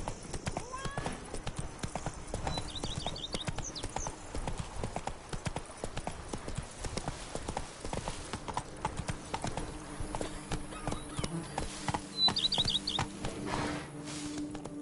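Geralt's horse Roach gallops in The Witcher 3: rapid, rhythmic hoofbeats drum steadily throughout, with faint birdsong in the background.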